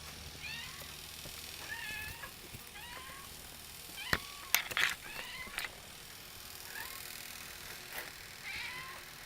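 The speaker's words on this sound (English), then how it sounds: "what do you want, kitty kitty? Meow meow meow." A cat meows repeatedly in short, rising calls, moderately close, over a quiet room with a couple of sharp knocks in the middle.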